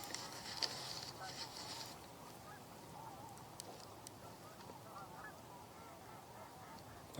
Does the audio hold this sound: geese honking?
yes